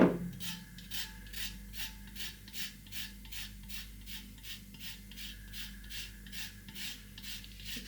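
Lime being zested on a grater, a long run of steady, evenly paced rasping strokes heard close and fairly quiet, each scrape a short gritty pulse repeating about twice a second with no voices.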